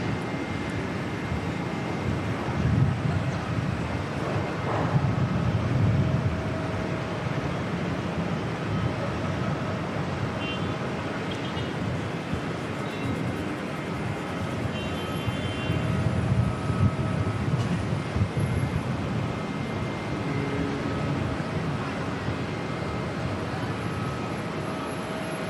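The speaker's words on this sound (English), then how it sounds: "Hopefully we get some good noise off the spool up takeoff roll." Airliner engines at Auckland Airport spooling up for the takeoff roll, a broad steady roar with a rising whine, heard from a distance and swelling twice in loudness.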